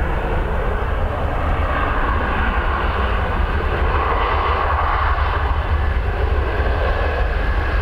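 An aircraft lands in a crosswind at Dublin Airport, its engines producing a steady, loud, broadband roar that holds evenly throughout with no pauses.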